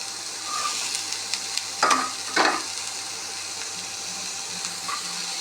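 Carrots for a South Indian poriyal, with salt and green chilli, sizzle and fry in a pan, a steady close crackle broken by a few louder stirring scrapes.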